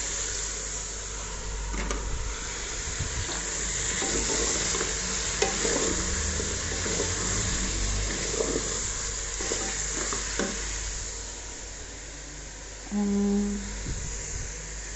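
Potatoes fry in a pot for Alo Gosht, a steady close sizzle with repeated stirring scrapes and utensil knocks throughout, and a brief humming beep near the end.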